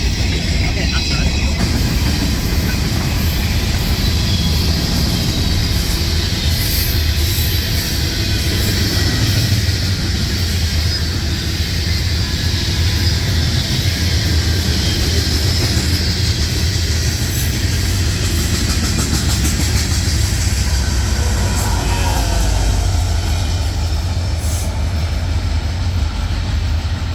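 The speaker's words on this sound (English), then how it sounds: "what you just saw is a mixed train, and it was a pretty good chunk of a train" A long Union Pacific mixed freight train rolls past, giving a continuous loud rumble and rattle of wagons that stays heavy from start to finish.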